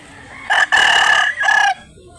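A rooster crows loudly and close by, one drawn-out call broken into short segments, with quiet surroundings.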